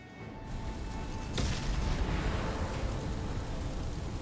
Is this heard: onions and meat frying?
no